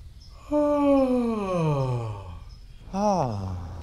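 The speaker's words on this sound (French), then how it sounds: "Tu peux terminer tes expérimentations avec un bâillement très ample et généreux." A person gives a deep, wide yawn, a long voiced exhale that slides downward in pitch, followed by a shorter second yawn-like breath, close and clear with no speech.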